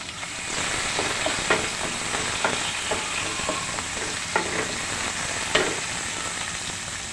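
Tomato added to onion already fried in oil, sizzling steadily in the pan while a spoon scrapes and stirs, giving repeated sharp clinks and scrapes over a constant close frying hiss.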